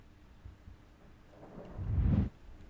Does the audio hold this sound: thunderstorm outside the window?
yes